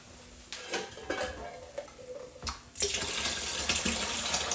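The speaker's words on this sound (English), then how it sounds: "Apple juice concentrate in here comes out very, very, very, very easily." Apple juice concentrate from a John Bull cider kit tin, a few light metallic clanks followed by a sudden steady gushing pour that runs loud and continuous to the end.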